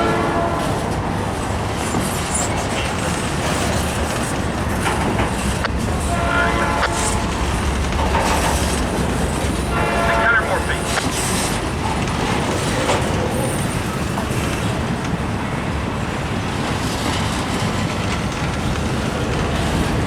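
A Norfolk Southern intermodal freight train with a hot axle on its rear car rolls steadily past at a close distance, making a constant loud rumble and rattle with clanking and squealing flecks throughout.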